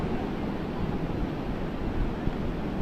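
Sea waves washing onto a Konkan beach, with the tide pulled back, form a steady, continuous roar of surf mixed with wind buffeting the microphone, loud and unbroken throughout with no talking.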